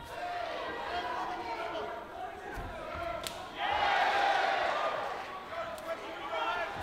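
A crowd at a British title MMA fight, with general crowd noise and chatter that swells into a louder cheer midway, then settles back into a steady background murmur.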